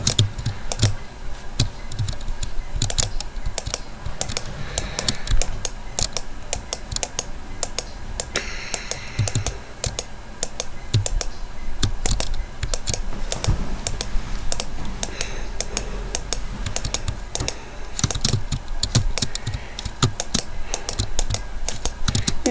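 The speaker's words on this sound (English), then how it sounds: "you can hear my mouse every time I click" Rapid, continuous clicking of a computer mouse during a Terraria game session, a dense, close run of sharp ticks with no talk.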